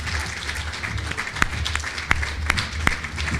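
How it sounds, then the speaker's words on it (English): Applause from an audience at a volunteer appreciation and awards celebration, a steady wash of clapping throughout with a few sharper individual claps standing out, moderately loud and close. "Let's give them a huge round of applause."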